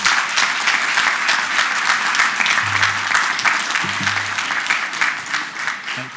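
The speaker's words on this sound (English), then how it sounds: "If we could have one more round of applause for our promotees today." Audience at a police department promotional ceremony gives a continuous round of applause for newly promoted officers, dense and even throughout, with a faint low hum or voice underneath.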